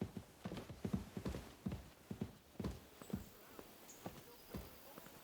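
Horse hooves clip-clopping at a steady walk in Kingdom Come: Deliverance II, about a dozen distinct, moderately close hoof strikes in an even rhythm over faint ambient background.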